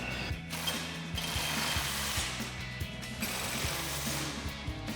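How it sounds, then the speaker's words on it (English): Ratcheting and metal clicking from a 16mm socket and wrench tightening the bottom bolts of a Barricade Extreme HD modular grille guard on a 2021-2023 Ford F-150, steady and close with repeated clicks throughout. "So now we'll come in and tighten down our bottom hardware."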